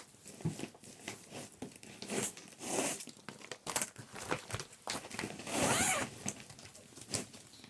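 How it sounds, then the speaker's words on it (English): Clothing zippers are pulled open and shut again and again, rasping bursts of varying length with crinkly handling noise, close and fairly loud, with no talk. "Sorry for all the zippers."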